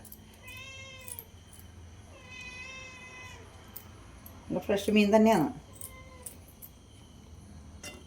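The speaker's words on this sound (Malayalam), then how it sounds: "മീൻ മുറിക്കുമ്പോൾ എനിക്ക് എൻ്റെ പൂച്ചയുണ്ടല്ലോ, വല്ലാത്ത പൂച്ചയാണ്" A cat meows repeatedly while fish is being cut in a kitchen: drawn-out, close meows come in several bursts, one louder wailing cry in the middle, with a person speaking briefly alongside.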